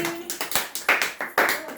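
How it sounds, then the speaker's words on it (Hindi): A handful of children clap in short, separate bursts, about eight sharp claps at an uneven rhythm, close by and fairly quiet, with a voice briefly heard at the start. "ताली मारो"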